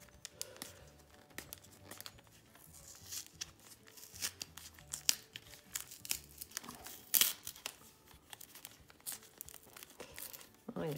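Close, faint crinkling and tearing of advent calendar packaging as it is opened, with irregular rustles, snaps and small crackles, and no talk.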